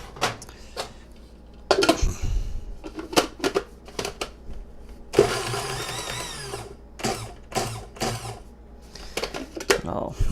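Onion is chopped in an Ultimate Chopper food chopper, an infomercial appliance from the early 2000s, with short whirring motor bursts and one longer run that start and stop in between nearby talking.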